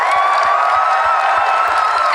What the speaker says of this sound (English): a big round of applause for the players